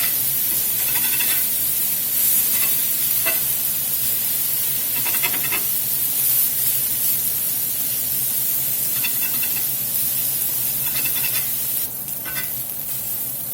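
Steak sizzling loudly on a hot griddle as a spatula chops it up, a steady dense hiss broken by occasional scraping and tapping bursts, with no voices.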